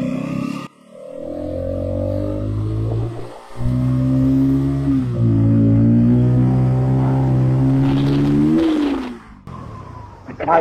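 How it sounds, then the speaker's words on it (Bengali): A Bajaj Pulsar N250 motorcycle with a 250 cc engine accelerates hard, its close, loud engine note climbing steadily in pitch through several seconds before easing off. "দেখেন আমি যখনই হচ্ছে এক্সেলারেশনটা দিতেছি দেখেন বাইক কিন্তু মুভ করতেছে"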